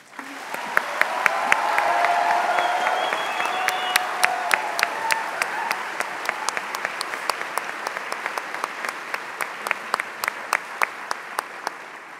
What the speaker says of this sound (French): je vous demande de refaire un maximum d'applaudissements pour toutes les personnes citées en remerciement